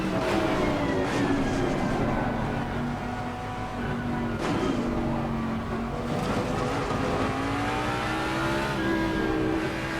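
A race car engine in Assetto Corsa Competizione revs and accelerates continuously, its loud, rising whine climbing through gears with brief dips at shifts, steady and up close with no talk.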